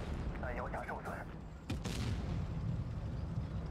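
Tank cannon shot in World of Tanks Blitz, a single sharp blast about midway, preceded by a voice talking and followed by a lingering low rumble.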